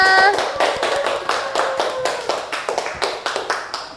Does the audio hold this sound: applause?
yes